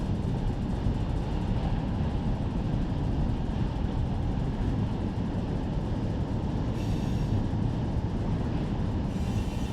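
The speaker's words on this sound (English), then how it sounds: "We have a pretty long train here." A long freight train rolls steadily along the track in the Run 8 Train Simulator game, set on an Alabama NS route, a continuous loud rumble of railcars with clickety wheel noise and no voices.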